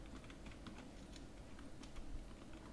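Soft, steady keyboard typing, entering a SQL query in the PostgreSQL console on Windows 10, taps along continuously under a dense layer of background noise.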